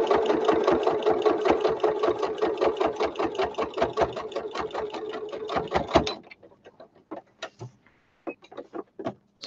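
Sewing machine running a straight stitch to attach elastic, a fast rapid needle chatter for about six seconds, then it stops and a few scattered clicks and handling noises follow.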